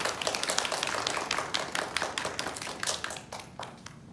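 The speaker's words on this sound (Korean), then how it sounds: "황동진 작가님 박수로 환영해 주시기 바랍니다" An audience claps in welcome for a guest author who is also a school education museum curator, giving steady scattered applause from a modest indoor crowd with no talk over it.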